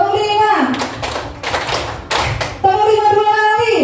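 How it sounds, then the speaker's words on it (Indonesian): A group claps out a five-count pattern in a hand-clapping game, a quick run of sharp, close claps set between a speaking voice before and after. "tepuk 5"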